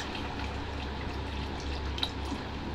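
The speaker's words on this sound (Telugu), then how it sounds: "అయితే వాటర్ అయితే వేసుకుంటున్నానండి" Water is poured into a pot of chicken curry in a home kitchen, a steady watery wash over a low hum with one small splash near the end and no talking.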